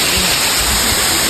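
Pradhanpat waterfall during a picnic outing, a loud, steady broadband roar of rushing, splashing water filling the whole clip close by, with no pause or change.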